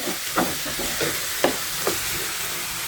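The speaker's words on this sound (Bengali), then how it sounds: "নেড়ে ছেড়ে মিশিয়ে নিয়েছি" Mango pickle mixed with turmeric is stirred in a hot pan, with a low sizzle running under several distinct spoon scrapes and knocks spaced roughly half a second apart.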